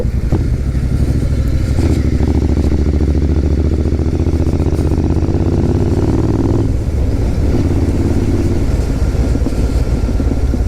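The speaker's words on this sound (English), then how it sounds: "Get lots of popping and banging from the exhaust on the overrun." A motorcycle engine roars steadily up close, its exhaust crackling and popping on the overrun throughout.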